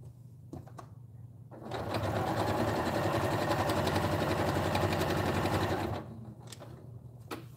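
A sewing machine stitches through soft fabric for a blanket, running in a steady fast whir for about four seconds close by, with brief handling noises before and after.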